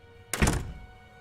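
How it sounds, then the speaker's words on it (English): A door shut with one heavy, loud thunk that booms briefly and fades within half a second, alone in a quiet room during a Dungeons and Dragons session. "Alright, well, I'm going to close this door."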